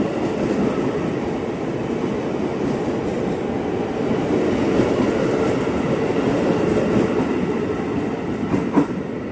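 KRL commuter train, an eight-car set bound for Manggarai, pulling out of the Depok depot with a continuous rumbling roll and faint wheel clatter, close and steady throughout.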